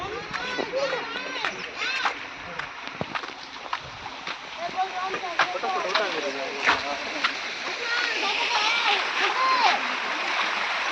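Waterfall and flowing stream water rush steadily throughout, a continuous broadband wash close by, with people talking over it much of the time.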